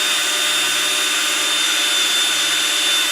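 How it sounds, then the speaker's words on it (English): A 3/16-inch brad point bit drills steadily into a wooden turned bird body, giving a continuous close whir of the power drill. "drill it deep enough to hold that beak we're going to put on there later."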